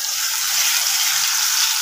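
Fried potatoes sautéing in a pan with mustard paste, chili and turmeric, giving a close, steady hiss of sizzling oil that runs on without a break.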